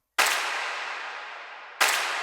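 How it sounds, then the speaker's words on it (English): Two sharp claps, each followed by a long, bright reverb tail washing out; the second hits just before the first tail fades. "This clap sound"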